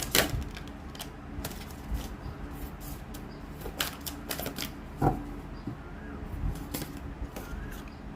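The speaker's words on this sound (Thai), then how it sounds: "วันนี้สับไพ่ตกเยอะจัง" A deck of tarot cards being shuffled close up, with scattered quick riffles and flicks, some cards slipping and dropping, quiet and without speech.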